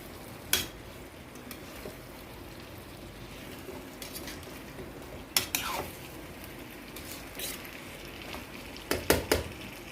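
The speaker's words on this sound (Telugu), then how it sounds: "వీటిని ఒకసారి ఇలా కలుపుకోవాలి" Stuffed brinjal curry stirred in a pan, with scattered spoon scrapes and clinks against the metal over a faint low sizzle, a few sharper knocks standing out near the end.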